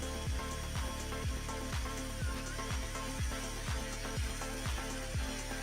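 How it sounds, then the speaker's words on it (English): A DeWalt power drill runs steadily while mixing a diluted solution in a glassblowing studio. It gives a continuous whir with a regular knocking pulse and no voices. "I absolutely love my DeWalt drill."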